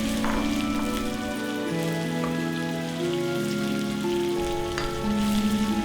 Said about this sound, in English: add the sliced shallots and fry over medium heat and stir occasionally